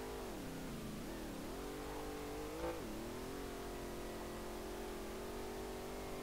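A car engine revs in third gear while drifting downhill in the SLRR game, a steady mid-pitched drone that rises and falls with throttle, wavering through corners, with no voices.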